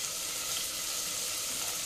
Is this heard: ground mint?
yes